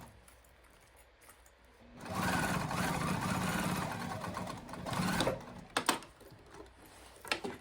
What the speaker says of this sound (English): I'm going to stitch across to stitch this into place